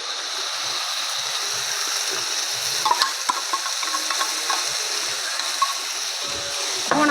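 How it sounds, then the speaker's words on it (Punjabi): Tomato paste and masala frying with onions in a pan for a soybean chunk curry: a constant close hiss of sizzling with scattered clicks and scrapes from stirring. "ਆਪਾਂ ਇਹਨਾਂ ਨੂੰ ਚੰਗੀ ਤਰ੍ਹਾਂ ਭੁੰਨ ਲਾਂਗੇ 3-4 ਮਿੰਟ ਵਾਸਤੇ"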